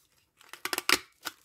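Paper being punched with a hole punch, several short crisp crunching snaps in quick succession, close and clear in a quiet room, with a final punch after a brief pause.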